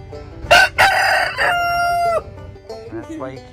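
A rooster at a poultry show crows once nearby, a loud rising call with a long held tone, followed by softer clucking and faint background voices.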